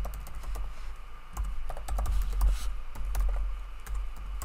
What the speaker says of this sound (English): I'll just need to enter my